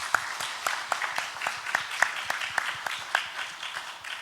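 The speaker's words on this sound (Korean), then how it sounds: "함께 감사의 박수 드리겠습니다" A church congregation claps together during a Sunday service, a steady, moderately distant patter of many hands with a few sharper individual claps standing out, no voices over it.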